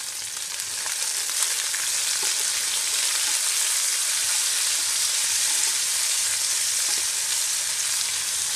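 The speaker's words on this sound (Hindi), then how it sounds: "अब इन सब चीज़ों को लगभग 2 मिनट तक तेज फ्लेम पर पकाएं।" Cashews, tomato and spices frying over a high flame for an Indian masala egg curry, giving a loud, steady, close sizzle that stays even throughout with no voices.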